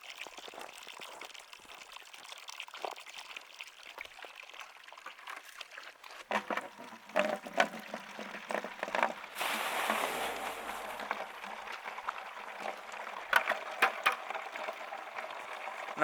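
Water splashes and trickles from a garden hose while topping things off outdoors, a faint steady flow that turns louder and more turbulent partway through, with bursts of splashing.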